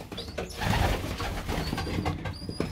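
Pigeons cooing close by, soft low throaty coos repeating over a steady background with faint rustling, no talking.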